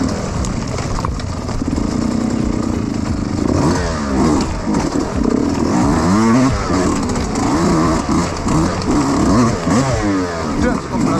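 A Yamaha YZ125 two-stroke dirt bike engine revs loudly and continuously up close during a race, with rising and falling pitch sweeps, as people talk over it.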